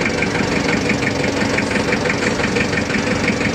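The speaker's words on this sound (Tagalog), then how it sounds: "Ganda na makina ng forklift nila oh." A forklift engine runs steadily while it is being ridden near the Pasig River esplanade, a continuous, fairly quiet mid-to-low drone with a regular pulsing throb, close and unbroken, with no talk.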